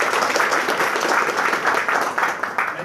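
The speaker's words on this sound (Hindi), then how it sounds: "प्लीज़ उनके लिए जोरदार ताली।" A crowd at a DXN office branch gathering in Doha, Qatar claps loudly and continuously, thick overlapping hand claps with no pause and no voices over them.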